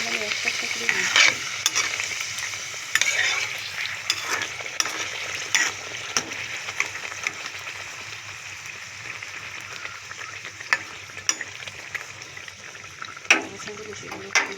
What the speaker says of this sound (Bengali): দেখতে পাচ্ছ আমার সব লুচি কটাই ফুলছে।